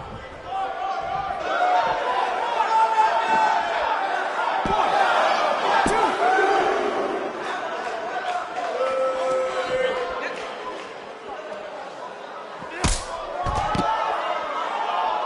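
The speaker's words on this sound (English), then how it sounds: "We have a sold-out, record-setting crowd here for BCW tonight." A sold-out arena crowd cheering and chattering at a wrestling show in the video game WWE 2K19, a steady roar throughout, with a sharp slam near the end and a voice talking over it.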